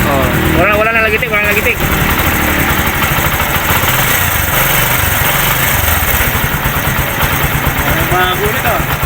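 A Kawasaki CT / Bajaj 125 motorcycle idles with a steady, close exhaust drone that runs throughout, with someone talking over it at the start and end.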